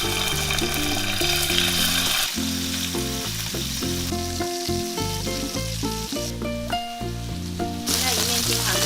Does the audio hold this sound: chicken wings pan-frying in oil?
yes